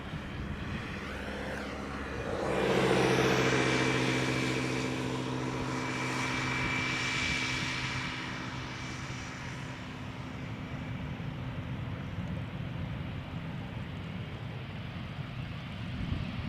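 A 16-year-old airliner arriving at Amsterdam Schiphol Airport, its jet roar swelling as it passes fairly close, then fading into a steady distant rumble.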